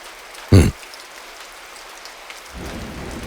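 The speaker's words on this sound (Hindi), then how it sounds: "तुम क्या चाहते हो? ये बारिश रुक जाए?" Steady rain falls and patters on surfaces, beginning partway through after a brief loud thump, with the hiss of rainfall building to fill the rest of the scene.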